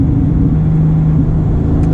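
Porsche 997.2 GT3 RS flat-six engine through a manual gear downshift, a steady loud close droning rumble with a sustained low tone and a slight rise near the end.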